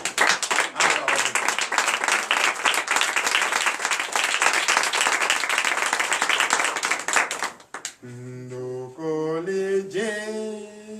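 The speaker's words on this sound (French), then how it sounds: "Veuillez vous lever et donner de vives acclamations à notre Seigneur Jésus" A church congregation at a night deliverance service in Comè, Benin, applauds and cheers loudly for about eight seconds, rhythmic clapping amid shouts, then breaks off as a single sung voice emerges.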